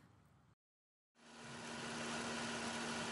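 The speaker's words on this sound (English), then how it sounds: "you can hear the engine running there on the audio" A Raptor prototype aircraft engine runs steadily on the ramp, rising from a cutout into a loud, constant drone with a strong steady hum beneath.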